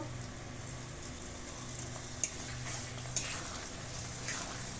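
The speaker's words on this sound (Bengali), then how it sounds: "টমেটো দিয়ে খুব ভালো করে একটু নাড়াচাড়া করে কষিয়ে নেব" Chopped tomatoes and fried onions sizzle in a pot of spiced mutton curry base while a spatula stirs them, giving a steady soft frying hiss broken by a few sharp scrapes and clinks against the pan.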